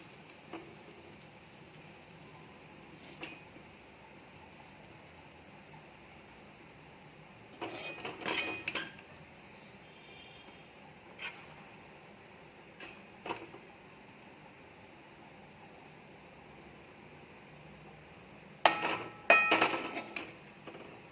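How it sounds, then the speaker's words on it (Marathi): Cluster bean and potato sabzi being served from a pan onto a plate: sparse metallic scrapes and clinks come in short clusters amid near silence, with two stronger bursts of utensil clatter. "गवार बटाट्याची भाजी प्लेटमध्ये काढून घेत आहोत।"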